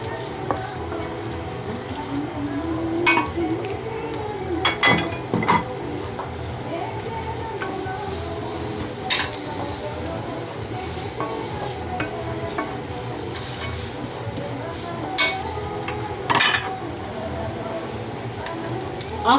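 Carrots frying in plenty of oil for vegetable achards, with a constant crackling sizzle and repeated scraping stirs of a spoon in the pan, close and fairly loud throughout.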